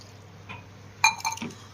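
A small steel glass of water is tipped into a pot while cooking a Kerala potato stir fry, giving a brief clink of steel on the rim followed by a short liquid splash and drip, close and fairly soft.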